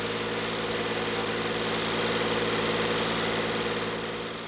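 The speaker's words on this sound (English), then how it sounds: "Tractors are indispensable to the wheat harvest" A tractor engine running at a Turkish wheat harvest, a loud, steady mechanical drone with a constant low hum throughout and no voices over it.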